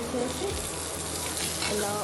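Coriander and curry leaves frying in a pan give a dense, steady sizzle with light stirring, close and continuous throughout.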